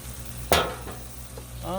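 Beef fried rice landing on a hot Blackstone griddle, with a sharp burst of sizzling that flares up and then settles into a steady hiss, and a few scraping stirs near the end.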